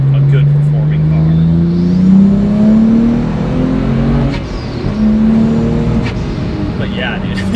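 A twin-turbo car engine accelerates close by, its loud droning note climbing steadily in pitch, dipping briefly, then rising again.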